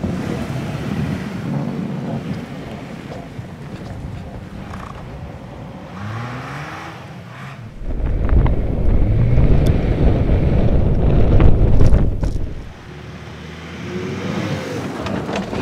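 A 2013 Mazda CX-9 with all-wheel drive pushing through deep snow, a steady rushing engine and wind roar that swells loudly in the middle, then eases back.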